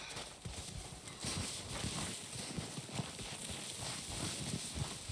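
Horse hooves clip-clop in Red Dead Redemption 2, a fast, dense galloping patter that runs steadily throughout over a wide game ambience, with no talk.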